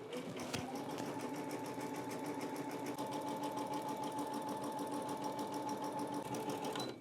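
A Brother sewing machine runs steadily for about seven seconds, a continuous close mechanical whir with a fast even stitching rhythm, starting and stopping abruptly with no talk over it.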